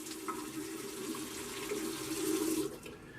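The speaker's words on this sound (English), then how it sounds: "Let me rinse my face real quick." Tap water running steadily into a bathroom sink while a face is rinsed after shaving, a close continuous splashing hiss with small shifts as hands move through the stream.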